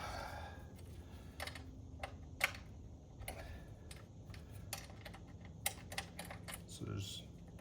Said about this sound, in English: Next step is to unscrew these nuts so we can remove the cables off of the headers.